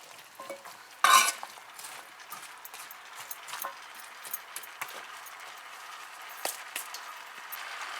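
Bhunjal pumpkin being stirred in a pot, wedding house style from Guyana: soft scraping and clinking of a spoon against the pot with one sharper clank, then light intermittent stirring taps over a faint sizzle.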